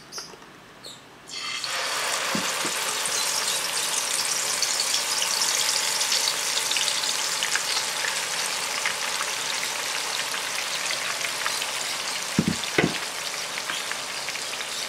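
Hot oil in a 30 cm Teflon pan erupts into loud, steady frying and sizzling as ingredients hit it, a close, continuous crackle running on alone with a couple of faint knocks near the end.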